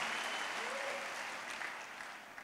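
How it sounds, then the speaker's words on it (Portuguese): Congregation applauding at a church congress, a steady, fairly distant wash of clapping that holds evenly through the moment, with a faint voice briefly rising under it. "Dê um aplauso a Ele"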